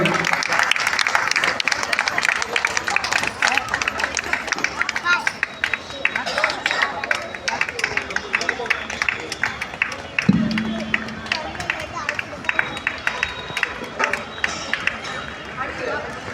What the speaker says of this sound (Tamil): நல்லா வந்து கரகோஷம் கொடுக்கலாம் அந்த குழந்தைக்கு.